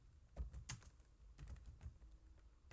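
Keys clack on a computer keyboard in short, irregular bursts of typing, quiet and close, with no talking.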